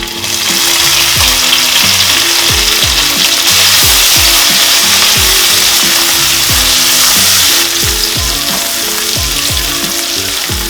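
Coconut pieces sizzling loudly in hot oil with crushed ginger, garlic and green chilli plus fennel seeds, a steady dense frying hiss over rhythmic low thumps of background music throughout, no speech.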